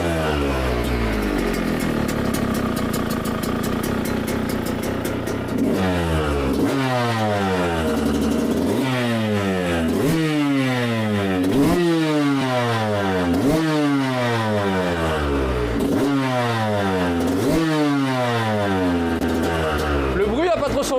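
Yamaha YZ 125 2023 two-stroke dirt bike with an FMF exhaust, idling roughly then revved hard in a steady series of about eight rising-and-falling blips, loud and close.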